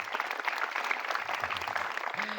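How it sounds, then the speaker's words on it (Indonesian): Applause from an audience at a motivational event at an Islamic boarding school, a brief burst of even clapping at moderate level, slightly distant, with a faint voice at the end. "Tepuk tangan buat kita semuanya."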